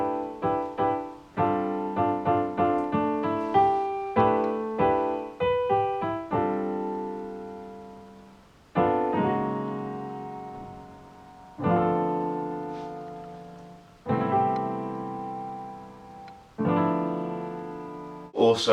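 Lofi hip hop piano chords played at 97 BPM, sustained stacked chords struck in a steady pattern, quick repeated hits at first, then longer held chords decaying between strikes, close and clear with no voices.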